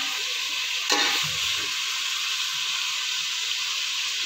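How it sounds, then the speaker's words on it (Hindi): A rice and chickpea dish with spices being fried in a pan, giving a steady, even sizzle and hiss throughout with a brief stirring scrape near the start, close and unvoiced. "इसके बाद हम 1-2 मिनट के लिए इसे अच्छे से भुनेंगे"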